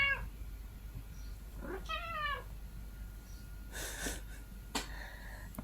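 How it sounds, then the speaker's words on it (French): A pet cat meows once clearly at home, a harmonic rising-falling call in the middle, with fainter rustling and short noisy bursts afterward in a quiet room. "Et voici le chat."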